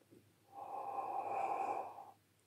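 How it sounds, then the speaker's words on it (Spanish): One slow, steady inhale through the open mouth, shaped like a yawn as a breathing exercise in a clarinet class, close and clear against a quiet room for about one and a half seconds. "Respiramos por la boca, pensando en un bostezo."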